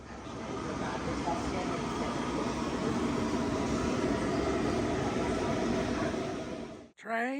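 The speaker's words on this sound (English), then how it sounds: "Train, it's just one little train stopping everybody from going." A steady, loud rumbling roar of a passing train fills the clip, then cuts off abruptly near the end.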